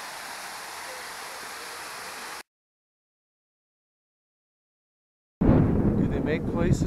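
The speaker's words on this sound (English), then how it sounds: "there it is, friends. Madison Creek Falls." Madison Creek Falls in Olympic National Park gives a steady, even rush of falling water that cuts to silence and then comes back louder and closer with a voice talking over it.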